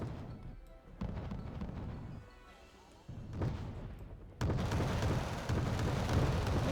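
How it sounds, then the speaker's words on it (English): Suppressive fire from an SDRF-90 unit in the real-time strategy game Wargame Red Dragon, rough bursts of distant-sounding gunfire and booming impacts that swell in stages and end in a loud, sustained crackling barrage, with no talking. "SDRF-90 putting down suppressive fire."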